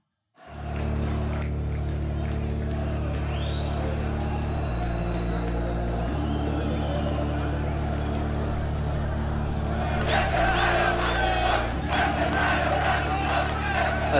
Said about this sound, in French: Ils ont scandé des slogans tels que CIA provocateur, Kissinger assassin.